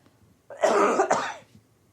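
A single harsh cough bursts out, close and loud, with a second rougher hack right after, then fades to quiet.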